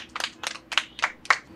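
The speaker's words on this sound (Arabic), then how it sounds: "تصفيق." A short run of five hand claps in steady rhythm, close and fairly loud, with no talking, coming after praise in a children's Arabic letters lesson.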